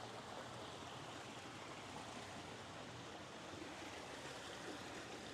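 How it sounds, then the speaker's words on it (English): A garden waterfall splashes into a koi pond, giving a steady, even rush of falling water that stays faint and unchanging throughout, with no voices. "Look at this waterfall."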